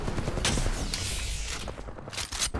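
Gunfire in a first-person shooter video game, a dense rattle of rapid automatic shots and bursts that carries through the whole stretch, loud and close, with no talk over it.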